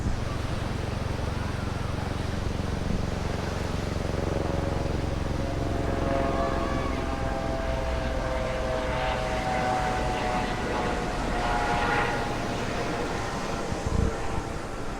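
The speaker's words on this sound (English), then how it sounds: "Here comes a helicopter right overhead." A helicopter passes close overhead at Coogee Beach in Sydney, a loud, steady engine drone with a shifting whine that rises and falls, filling the whole stretch.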